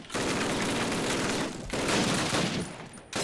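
Rapid M1 Garand rifle fire in Call of Duty, a dense run of loud, close shots that breaks off briefly around the middle and near the end before resuming, with no talking.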